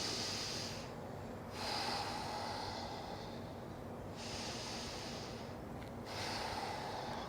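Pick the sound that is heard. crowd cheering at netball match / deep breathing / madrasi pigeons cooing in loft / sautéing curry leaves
deep breathing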